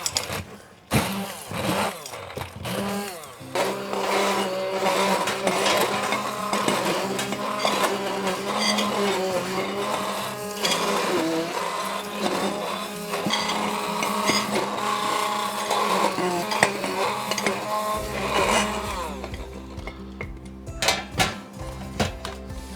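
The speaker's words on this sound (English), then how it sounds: "I'll probably have to grind it down through it as we go." An electric grinder working on freeze-dried egg yolk and white gives a loud, continuous whirring drone with gritty rattling that varies in pitch as the powder breaks down, then winds down at the end.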